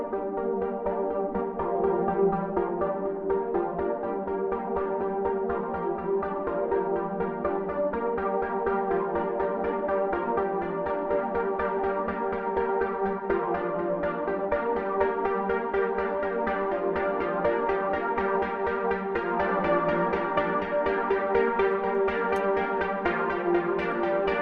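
A minimalist piano-like canon of a single melody played against itself with shifting phrase lengths, forming a steady, dense, hypnotic stream of repeated notes that continues evenly for the whole stretch without any voice.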